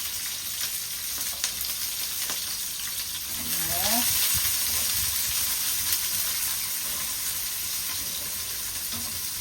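Onion and garlic fry for a lotus root stir fry, sizzling steadily in the pan with a faint brief clink and a soft stirring scrape partway through.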